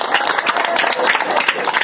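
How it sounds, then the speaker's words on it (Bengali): Applause for a large cow at the Postogola cattle market in Dhaka during Eid al-Adha, a dense burst of many hands clapping close by amid crowd noise, lasting about two seconds. "গরুটার জন্য কি একটি হাততালি হতে পারে?"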